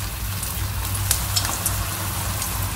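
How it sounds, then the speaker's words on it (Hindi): Vegetable Manchurian balls deep frying in hot oil, a steady, even sizzle with faint crackles and pops, heard close up with a low hum underneath. "हम इसे डीप फ्राई करेंगे"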